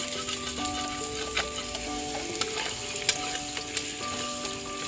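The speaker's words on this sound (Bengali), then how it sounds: "এই যে এবছর সিজনের প্রথম কড়াইশুটি বাটা পড়ছে কড়াতে" Steady frying sizzle from a wok as green pea paste fries, dense hissing crackle with occasional sharp pops, close and continuous, with a faint tonal hum underneath.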